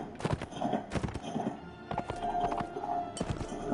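Horse hooves clip-clopping in the medieval combat game Mount & Blade: Warband, a string of sharp, close hoof strikes in irregular groups, with a faint whinny-like tone mixed in.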